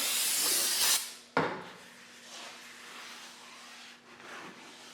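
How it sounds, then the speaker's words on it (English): A short burst of carburetor cleaner aerosol spray hisses loudly for about a second during a rear brake rotor job on a Ford F-series truck, then a sharp clack follows before quieter rustling and faint background hum. "we need to grab some carburetor spray"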